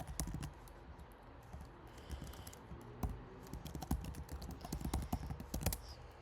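Computer keyboard keys are tapped in uneven bursts while tabbing through menus on a FreeBSD 14.4 desktop running KDE Plasma, close, crisp clicks with short pauses and no talking.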